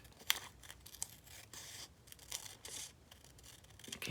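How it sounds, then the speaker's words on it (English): Scissors cut around a paper cutout for a gluebook, giving soft, quiet, intermittent snips and papery rustles close by in a still room. "I think I want to cut around that more."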